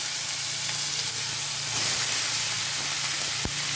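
Ash gourd pieces sizzle steadily in hot mustard oil with black mustard seeds and a chili. The loud, even hiss holds throughout, with a faint clink near the end.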